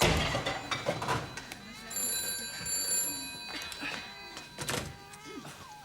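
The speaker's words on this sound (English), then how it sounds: "The phone's ringing." A telephone rings in a sitcom home scene, a few bright repeated ring bursts sounding at moderate distance while people talk around them.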